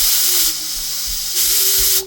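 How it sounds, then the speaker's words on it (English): Steady broadband steam hiss from a Hawkins pressure cooker, loud and continuous, dipping briefly twice as the vent is adjusted, with a faint whistling tone running underneath. "just with a push of a fork can adjust the steam"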